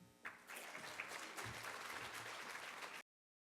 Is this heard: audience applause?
yes